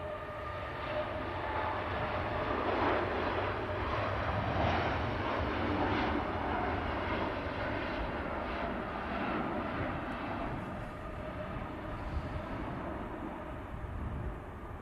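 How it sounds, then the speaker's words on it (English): A Norse Dreamliner airliner makes a long takeoff roll at Manchester Airport, heard as a steady, broad jet roar that holds at an even level for the whole stretch, with no voices. "Long takeoff roll. He's doing plenty of the runway, the Norse Dreamliner."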